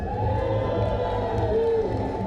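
Audience at a beetleweight combat robot tournament cheering to vote for a fight winner, a sustained loud crowd roar with whoops throughout.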